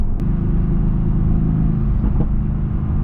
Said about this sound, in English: I love the sound of this engine. Even though there's 2 turbos, AMG really knows how to make a good sounding car.